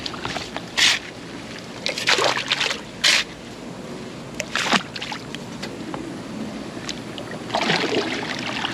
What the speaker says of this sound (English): Tilt forward, let the water wash it out.